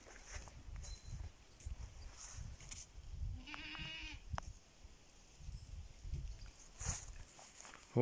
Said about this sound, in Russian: Вот еще у нас есть коза Дана.